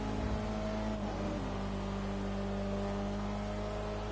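Steady engine drone of a car in top gear in GTA 5, a sustained humming tone with a slight pitch dip early on, continuous and fairly loud with no talk.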